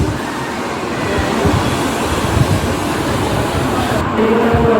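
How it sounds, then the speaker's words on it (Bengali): A train rolls into the platform at Puri station, a loud continuous low rumble and rattle of wheels that grows slightly toward the end amid station noise. "তো আমাদের ট্রেন ঢুকছে,"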